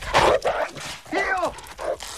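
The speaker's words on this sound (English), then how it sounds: "Oh, that's a big bonny dog." A big dog in the 1986 film Ferris Bueller's Day Off lets out several deep, throaty barks and yelps in short bursts. The sound is mid-distance and mixed with movie sound.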